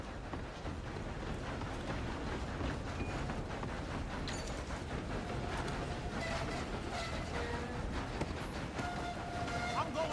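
Train rolling steadily on rails in Red Dead Redemption II, a continuous loud rumble with faint rhythmic clatter and no break, with some voices mixed in.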